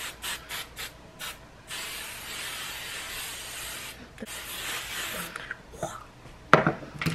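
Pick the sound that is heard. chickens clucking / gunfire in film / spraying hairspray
spraying hairspray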